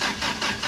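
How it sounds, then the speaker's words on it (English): A wood gas powered car engine tries to start, giving a short, steady mechanical churn that swells and dips without catching, loud and close. "With the fan off, can Johan finally get some life out of this wood guzzler? Oh, now it comes."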